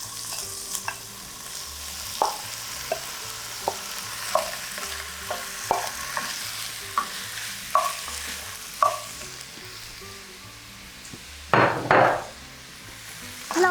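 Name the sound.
lamb cubes browning in a pan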